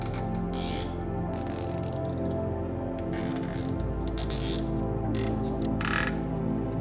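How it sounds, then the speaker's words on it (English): Nylon cable ties being pulled tight on a homemade portable mini air conditioner, a steady close zipping ratchet of clicks running continuously for several seconds, no voices. "We tighten the cable ties and cut off the excess."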